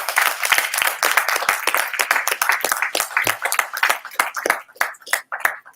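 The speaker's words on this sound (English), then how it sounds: "let's get a Most High God another hand of applause" Congregation applause for the Most High God at a religious Sabbath gathering after Passover, a sustained burst of dense clapping from a crowd that thins toward the end into scattered claps.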